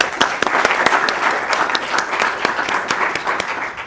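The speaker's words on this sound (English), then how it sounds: "let's give me an applause" A conference audience claps steadily for a few seconds, a dense, loud patter of many hands without a break.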